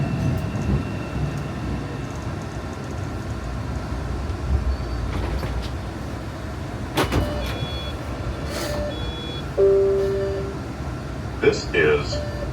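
A Boston T subway train on the Forest Hills-bound line runs with a steady low rumble and rolling wheel noise, then brakes squeal and tones sound as it pulls into Chinatown, with brief clanks near the end.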